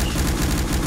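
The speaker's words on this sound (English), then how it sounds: "Somebody shooting at us, man." Rapid automatic gunfire from a video game rattles in a dense, continuous burst of evenly spaced shots, loud and close, with no talk over it.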